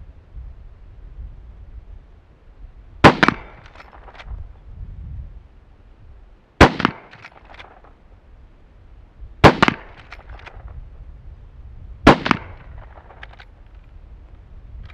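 Four loud, sharp shots from a Henry lever-action rifle with iron sights, firing Federal ammunition, each spaced about three seconds apart with a short decay and no talking in between.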